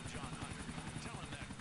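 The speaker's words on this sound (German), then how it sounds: "Da oben ist auch noch ein Hubschrauber auf dem Dach." A helicopter in GTA IV gives a rapid, rhythmic rotor thudding with a steady engine whine, moderately loud and continuous, while a voice talks over it.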